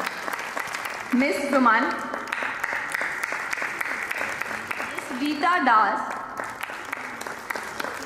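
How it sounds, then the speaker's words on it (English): Continuous applause from an audience at a school annual day celebration, steady and moderately distant, as a presenter reads out names over the clapping at two points. "let's keep on having a huge round of applause for them"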